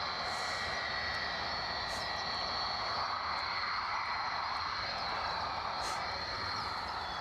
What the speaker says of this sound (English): That is an unmistakable sound, that. That's a 757.